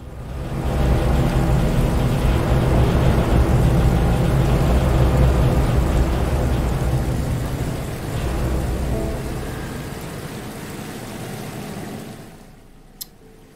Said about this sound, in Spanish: Ahí parece que cae agua.